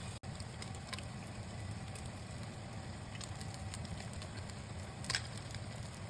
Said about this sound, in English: add in the pork chunks and sear them on all sides until they get that beautiful golden brown color.